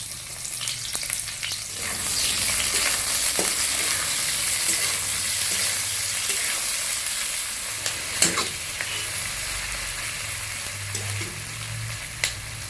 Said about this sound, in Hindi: एबे कटा पियाज पकेइबा